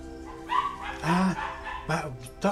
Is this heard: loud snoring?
no